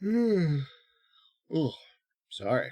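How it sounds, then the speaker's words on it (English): A person's long drawn-out yawn with a falling voiced tone, followed after a pause by two short bursts of speech. "That was a yawn"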